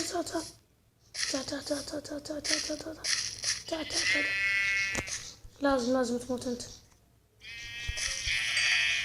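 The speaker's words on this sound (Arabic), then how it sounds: "هناك في خروف." Sheep in the video game Minecraft bleat several times, loud and near, in short wavering cries spread across the clip while someone speaks between and over them.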